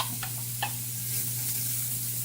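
Onions fry in a pan, a steady close sizzle over a low hum, with a few soft scrapes and taps of stirring, no voices.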